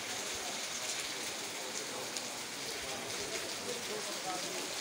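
Heavy rain falls in Allahabad, a constant fine hiss of drops on surfaces, soft and even throughout.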